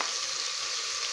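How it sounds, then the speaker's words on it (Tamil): Chopped banana flower sizzles and is stirred in a hot pan, a steady bright frying hiss, close and even, with no talk. "வாழைப்பூ போட்டிருக்கோம், நல்லா இந்த மாதிரி கிண்டி விட்டுக்கோங்க."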